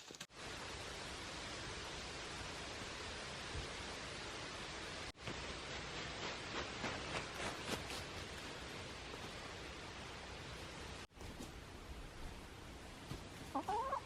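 Chickens clucking softly among a steady hiss of outdoor noise, scattered quiet calls over several seconds, no one speaking.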